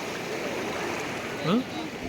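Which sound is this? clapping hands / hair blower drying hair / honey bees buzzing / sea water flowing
sea water flowing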